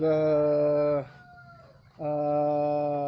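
Brood hens clucking and calling close by, a loud sustained call for about a second, a brief quieter gap with a faint call, then another long loud call.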